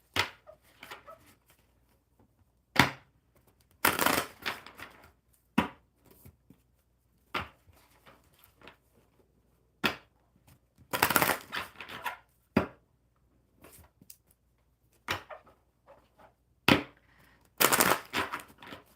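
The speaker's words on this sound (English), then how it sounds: "One more real good shuffle." Repeated bursts of riffling cards, each a quick crackling flutter, separated by quieter handling pauses; close and fairly loud.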